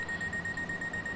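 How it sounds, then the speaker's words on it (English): In Train Sim 2014, a train's door warning alarm gives a faint, rapidly repeating electronic beep, pulsing evenly over a low background hum. "Oh, that's the alarm for the people."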